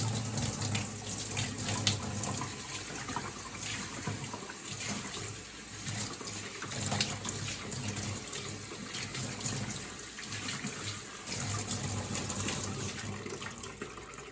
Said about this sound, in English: the first thing that I need to do is get my hair wet